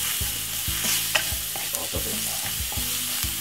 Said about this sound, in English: Let's fry up the curry, everything one time, just to get the flavor.